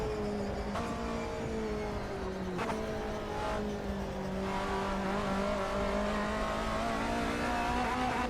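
Classic GT race car engine in Automobilista 2, a steady loud drone with shifting pitch and a faint tyre squeal from struggling rear tyres, a couple of sharp knocks along the way.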